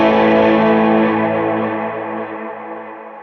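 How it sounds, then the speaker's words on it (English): Electric guitar through a Line 6 HX Stomp with King of Tone overdrive, delay and reverb: a single loud, driven chord rings out and slowly decays into a wash of wet echoes, with no talking. "So this is kind of a driven sound with these big wet effects."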